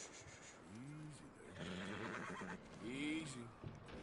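A horse in the Red Dead Redemption 2 video game gives two short whinnies, the second louder, with rustling and soft shuffling noises between them.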